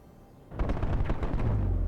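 An augmented combat chassis fires steel balls using shaped microcharges in the Deus Ex: Human Revolution video game. After a quiet half second, a rapid series of sharp, booming blasts rattles in at close range.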